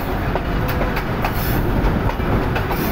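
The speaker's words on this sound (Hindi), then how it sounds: "सामने से एक ट्रेन आ रही है" A train rolls along the loop line at Kala Gujran railway station in Pakistan, its steady clickety-clack of wheels over rail joints loud, close and continuous throughout.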